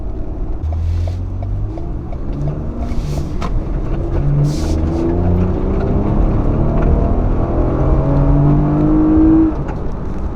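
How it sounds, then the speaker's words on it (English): A 2019 Lexus RX 350 engine revving steadily while the car drives, a loud, continuous droning hum with pitch that rises and falls gently throughout, no talk over it. "It just revs up and makes noise."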